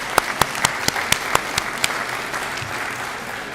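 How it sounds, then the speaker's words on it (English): Audience applause at a tribute event: a few sharp, loud claps ring out close by at a steady rhythm over a softer background of crowd clapping, then the close claps stop and the general applause fades. "Let's give a big round of applause."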